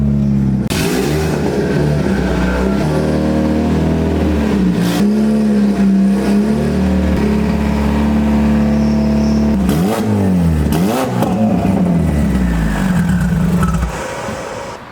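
A car with a freshly built engine, just given a break-in oil change, idles and pulls into a workshop, its steady engine drone rising and falling with throttle blips, loud and close throughout with no talk.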